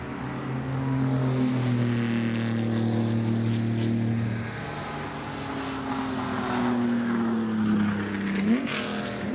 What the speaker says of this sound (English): as we look at the Lancia-Ferrari going around the circuit, rumbling away the D58, what a raucous engine note that is